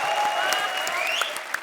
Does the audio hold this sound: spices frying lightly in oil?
no